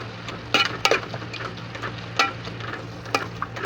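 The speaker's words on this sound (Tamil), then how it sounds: "வெங்காயம் வதங்கிட்டுருக்காங்க" Onions sautéing in a pan for mutton biryani, steady sizzle with repeated sharp scrapes and clinks of a spoon stirring through the pan, a low hum underneath.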